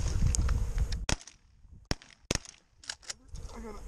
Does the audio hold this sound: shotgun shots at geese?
yes